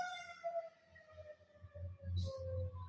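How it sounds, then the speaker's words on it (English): A siren wails faintly in the distance over a low rumble, with a brief higher chirp near the end as it passes. "Ooh, do you hear that? That's a siren."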